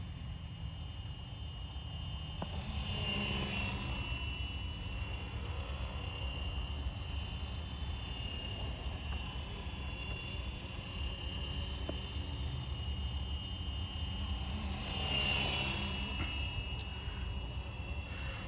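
A Flywing FW450L RC helicopter flies continuously at a moderate distance, its steady rotor and motor whine forming a faint, broad hum that swells twice as the model passes closer.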